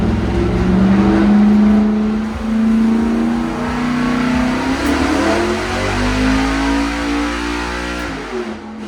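A carburetted V8-style car engine is revved hard on a chassis dyno run with ignition timing at 36 degrees, a loud, sustained roar climbing in pitch, easing and climbing again over several seconds, with no voices.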